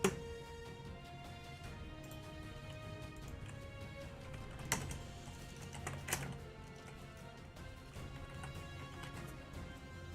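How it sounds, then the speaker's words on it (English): Fingers typing on a computer keyboard, a quiet steady patter of key clicks with a few louder taps, continuous and close, with no talk over it. "I'm typing some stuff out right now for Ninmet's hotkey for the future."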